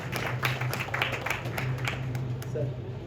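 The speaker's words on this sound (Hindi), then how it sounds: "तो उनके लिए भी एक जोरदार तालियां।" Audience applause at a Lions club presidents' event, steady clapping across the room with a low hum and some murmuring voices underneath.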